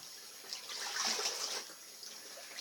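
Clothes being stirred around in a tub of dye water, a soft sloshing and swishing that swells briefly in the middle and then settles, fairly quiet with no voices.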